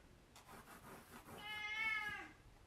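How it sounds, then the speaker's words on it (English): A house cat gives a single drawn-out meow, quiet and fairly close, preceded by faint rustling in an otherwise quiet room. "That's our cat, Cuda."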